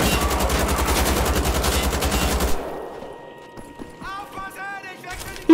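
Rapid automatic gunfire in the video game Wolfenstein: The Old Blood, a loud, dense burst lasting about two and a half seconds before cutting off, followed by quieter game sounds and a final sharp report.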